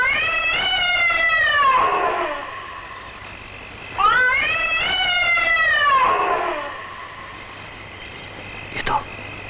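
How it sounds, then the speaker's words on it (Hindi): Two long, eerie, drawn-out cat yowls, each rising and sliding downward, sound loud and near in a Bollywood horror film, followed by a faint brief knock. "उसी बिल्ली की आवाज है।"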